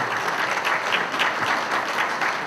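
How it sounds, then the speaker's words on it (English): A dinner audience breaks into steady, fairly loud applause, a dense wash of clapping with no voices on top. "let's give them a round of applause"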